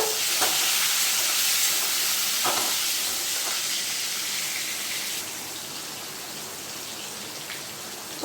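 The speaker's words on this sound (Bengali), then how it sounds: "এবারে আমি তোমার টমেটো কুচি দিয়ে দিচ্ছি তেলের মধ্যে।" Chopped tomatoes hitting hot oil in a pan, giving a loud, steady, hissing sizzle that continues throughout, with a few faint clinks and no talk.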